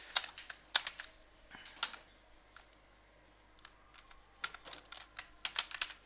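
Bursts of typing on a computer keyboard while entering Java JDBC code, quick clustered keystrokes near and crisp, broken by a pause midway before a fast final run.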